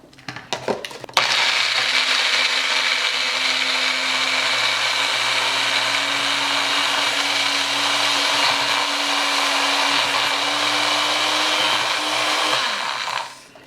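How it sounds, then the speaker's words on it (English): A Magic Bullet blender whirs steadily at high speed, grinding cooked split peas in a small portion; a sharp start gives way to a loud, even motor drone lasting about twelve seconds, then cutting off. "After your split peas is cooked, we have to blend it, right? I have a magic bullet"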